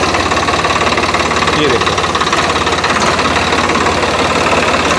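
A modified tractor engine idles with a loud, close, steady knocking chug, while someone speaks over it briefly.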